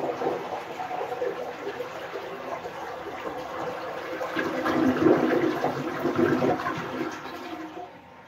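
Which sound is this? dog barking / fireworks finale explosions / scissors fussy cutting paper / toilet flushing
toilet flushing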